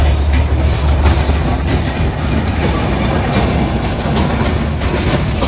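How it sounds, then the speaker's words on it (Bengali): An intercity train passes close by a roadside hotel in Dhaka, a loud continuous rumble with rhythmic clickety-clack of wheels and a heavy low engine drone throughout. "আর ট্রেন আসতেছে ওই দিক"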